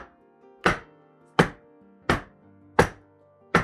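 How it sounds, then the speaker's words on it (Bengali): Cake pan filled with banana bread batter rapped down on a counter to knock out air bubbles: five sharp, evenly spaced thunks about 0.7 seconds apart, close and fairly loud, with no talking. "প্যানটা নিয়ে একটু ট্যাপ করে নেবা, তাহলে উপরে যে বাবলগুলো থাকে বাবলগুলো ভেঙে যায়।"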